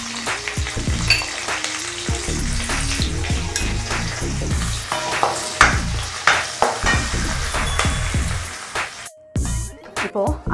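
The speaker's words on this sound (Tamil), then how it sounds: "பச்சை மிளகாய் கீறி வச்சுருக்கேன், அதை சேர்க்குறேன்." Slit green chillies and curry leaves hit hot oil in a pan and burst into loud crackling sizzle, with sharp spattering pops and clinks of a stirring spoon, easing off toward the end.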